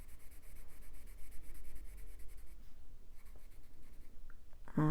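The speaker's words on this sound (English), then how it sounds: "implicate that with my pencil strokes as well" A pencil draws the fur of a ginger tom cat in quick, soft, scratchy strokes on paper, close and quiet, with a brief pause partway and a sharper sound at the very end.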